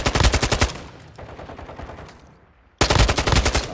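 Rapid automatic gunfire in Call of Duty: Modern Warfare II, a loud close burst at the start, a fading lull, then another sharp burst of rapid shots.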